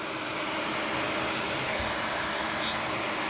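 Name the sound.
heat blower warming vinyl for removal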